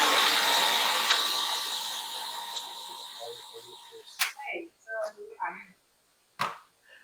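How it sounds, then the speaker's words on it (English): Milk whisked with berries, mango and banana gives a steady whirring, rattling churn that starts loud and slowly fades over several seconds before a voice takes over. "So I'll just whisk this up"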